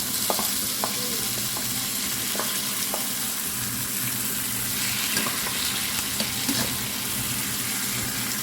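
Tomatoes sizzling steadily in a pan with squid, a loud continuous frying hiss broken by occasional scraping stirs and clinks of a utensil.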